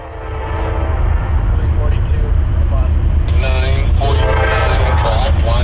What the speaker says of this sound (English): Our last train of the day would be westbound 67X, a daily empty oil train